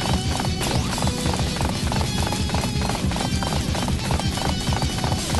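Steady, rapid hoofbeats of a galloping horse in Dynasty Warriors 8, loud and continuous over a dense rumbling background, with no talking.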